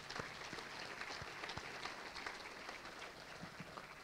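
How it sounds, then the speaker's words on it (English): Audience applause for students, teachers and school staff at the 2015 Rochester Hills State of the City address: a quiet, even wash of many hands clapping, heard from a distance and continuing steadily without any speech. "Let's give them a round of applause"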